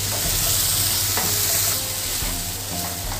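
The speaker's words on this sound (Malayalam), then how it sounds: "നന്നായിട്ട് തക്കാളി വെന്ത് വരണം. നന്നായി ഉടയണം. അതുവരെ ഒന്ന് ഇളക്കി കൊടുക്കുക." Chopped tomatoes fry and sizzle in a pan for masala pasta, a continuous hiss with intermittent scraping and tapping of a spoon as they are stirred, no speech.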